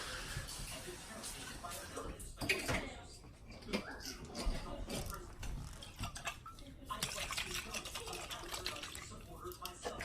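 Tap water running into and swirling inside an emptied Prego traditional sauce jar, a steady splashing rinse with glassy clinks, close by in a home kitchen, with brief talk over it.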